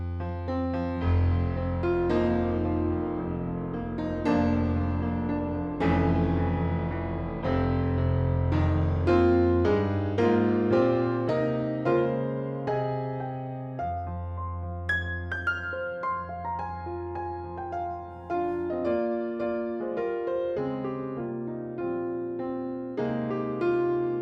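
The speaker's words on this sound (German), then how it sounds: "Das ist wirklich das größte Upright Piano der Welt." The Giant upright piano software instrument from Native Instruments playing a full, resonant chordal passage with deep bass notes and melodic runs, close and continuous for over twenty seconds without any speech.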